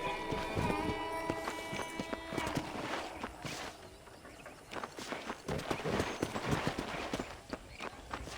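Horse hooves clip-clop steadily on hard ground at a walking pace in Red Dead Redemption, fairly faint, with a soft snort or whinny mixed in.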